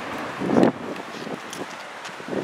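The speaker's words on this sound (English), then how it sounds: "It's pretty windy out here today" Wind outdoors by a parking lot and shop fronts, blustery gusts buffeting the microphone, with one strong rumbling burst early and lighter rustling afterward.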